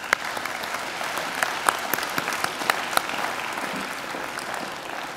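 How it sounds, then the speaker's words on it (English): A graduation-ceremony audience of parents, guardians and supporters gives a warm, sustained round of applause, a dense steady patter of many hands with a few sharper claps standing out. "give all our parents and guardians and supporters a warm round of applause"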